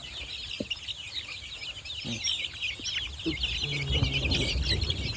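Backyard chickens in a flock of nearly 200 cluck in short bursts against a steady backdrop of chirping birds or insects, with a few scattered calls close by.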